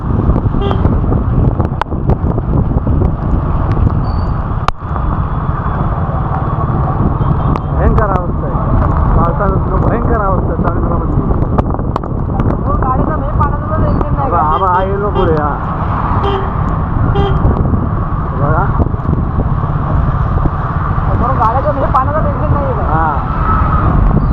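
Heavy rain pours over a long queue of vehicles stuck on a waterlogged road in Bhiwandi, with a steady loud roar of rain and engines, a few car horn toots breaking through, and people talking over it.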